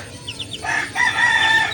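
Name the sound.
chicken crowing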